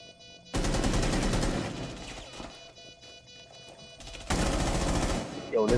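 Bursts of gunfire from a Rainbow Six Siege match, a loud sustained volley at the start and another near the end, with quieter clatter between, players' voices mixed faintly underneath.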